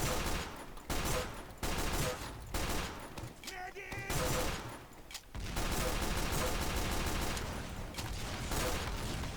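Rapid pistol gunfire in the Team Fortress 2 video game, dense bursts of shots repeating loudly across the whole stretch with brief gaps, over busy game noise.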